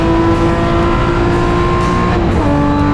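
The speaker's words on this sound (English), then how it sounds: "Cobus Bowman there in the Pepper Shield BMW" Loud BMW race car on a circuit during a motorsport festival, engine roaring close by with a sustained high tone that shifts in pitch as it passes.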